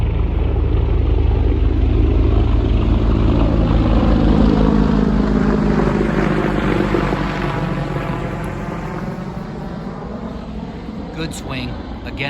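A helicopter passes over a golf course, a loud, steady rotor and engine roar that fills the whole clip and slowly fades in the last few seconds.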